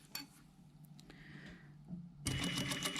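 A sewing machine stitches a jacket's lining to its fabric along a seam. It starts with a few quiet, scattered mechanical taps, then breaks into a steady, fast run of needle clatter near the end of the clip, close and moderately loud.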